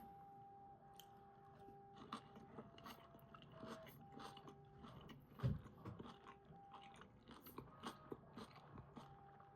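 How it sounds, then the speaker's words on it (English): Crisp crunch of a bite into a Costco Snow Fox sushi roll topped with crispy onion and filled with bell pepper and cucumber, one sharp close bite standing out over soft chewing and faint steady background tones. "I'm going to add some crispy onion in here. I'm going to take a second bite."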